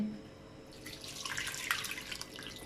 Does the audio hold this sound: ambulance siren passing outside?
no